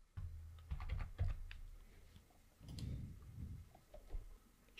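Password being typed on a computer keyboard while signing in to a Shopify account: bursts of quick, close key clicks, dense at first, then sparser taps after a short pause, with no talking.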